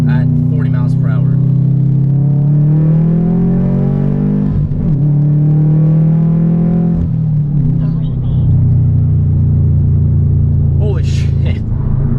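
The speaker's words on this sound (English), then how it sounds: "So you can hear the turbo spool up. It's that good little spin noise" A tuned Subaru WRX pulls hard in second gear from about 40 mph, its deep engine rumble climbing steadily while the turbo spools. A short excited exclamation comes from inside the car.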